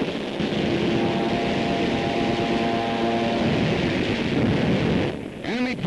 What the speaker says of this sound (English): Enemy planes zooming in low, men throw themselves flat on the deck.